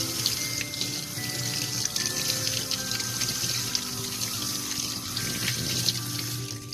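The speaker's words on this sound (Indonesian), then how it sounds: "Kemudian bila si air mengalir" Water runs steadily from a tap into a sink, a continuous close splashing flow with faint clinks, and no voices.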